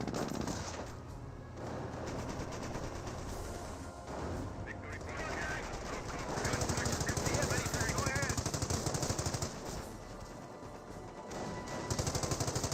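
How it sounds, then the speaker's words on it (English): Automatic machine-gun suppressing fire from Company of Heroes, a WWII strategy game, pinning down Panzer Grenadier infantry; sustained rapid bursts chatter loudly through most of the stretch amid battle noise. "Cal suppressing down these Panzer Grenadiers."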